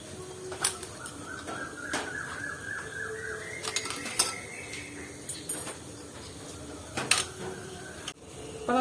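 Steamed tapioca puttu is moved from its pot into another bowl, bringing light metallic clinks, scrapes and utensil taps against the dishes at irregular intervals, fairly faint and close, with a soft background hiss.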